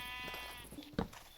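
Sheep in the Minecraft video game bleating, a wavering bleat followed by a shorter second bleat, with a faint murmur of voice underneath.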